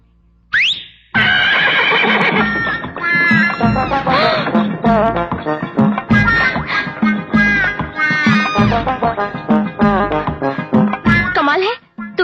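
A short whistle blows, then a horse that comes running back on cue neighs and whinnies loudly and repeatedly, with voices and other busy sounds mixed in close by.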